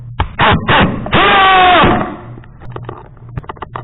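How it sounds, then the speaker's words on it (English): Hammer drill whirring in short loud bursts, then a longer sustained whine with a rising and falling pitch, followed by scattered clicks and knocks from handling the tool. "It's on the hammer drill."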